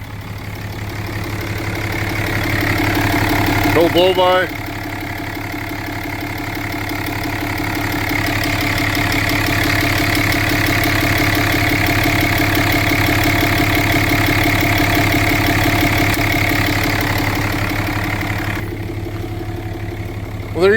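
An auction pickup truck's engine idles smoothly and steadily at close range, a loud continuous rumble with a faint ticking rhythm and a brief voice speaking over it.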